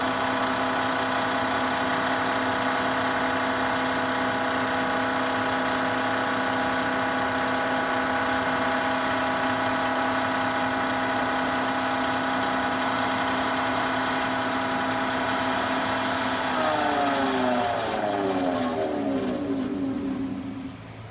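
Wood lathe spinning a wooden feather pen at close to 2,000 RPM during abrasive-paste polishing, giving a steady droning motor hum with a tonal whine that shifts and wavers near the end, alone and fairly loud.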